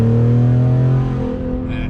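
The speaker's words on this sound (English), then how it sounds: "we're going to do a little 0 to 60 pull and see how fast this truck really is with a tune and catless downpipes" A tuned, catless-downpipe 2019 Ford Raptor truck in four-wheel drive accelerating hard from a standstill: a loud, close, deep droning engine roar climbing steadily, then dipping as it shifts, no talking.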